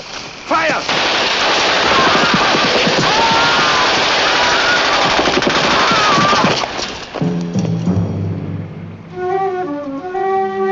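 Sustained rapid bursts of machine gun fire, loud and crackling for several seconds, then cutting off into quieter clattering and a few tonal sounds.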